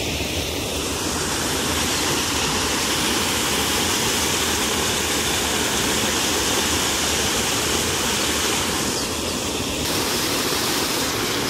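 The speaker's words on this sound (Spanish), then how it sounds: "Esperemos que el agua corra rápido y que baje ahí" Floodwater on a flooded lemon-tree plot rushes steadily toward a drain blocked by a stuck stick, a loud, continuous roar with no break.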